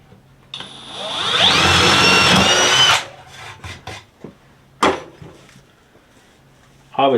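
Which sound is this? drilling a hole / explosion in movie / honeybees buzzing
drilling a hole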